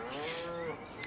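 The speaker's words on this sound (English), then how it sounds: "Say hi to the cows as well." Cow mooing on a farm field, one long low drawn-out moo close by, with faint outdoor ambience and a brief click at the end.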